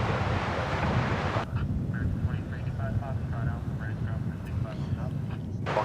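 An airplane landing on runway 18 left at DFW Airport gives a steady broadband roar under constant wind noise, nearly level in loudness, with faint tonal engine whine holding through most of the span.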